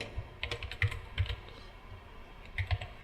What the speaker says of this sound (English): click up here and start typing